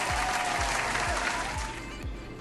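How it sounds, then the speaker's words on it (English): Brief, full burst of applause from a group, loud and continuous, fading slightly at the end, with a faint voice running underneath. "Applaud for me."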